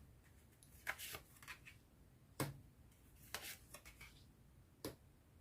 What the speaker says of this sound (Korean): 수호신의 12월 메시지 카드부터 뽑아보도록 할게요.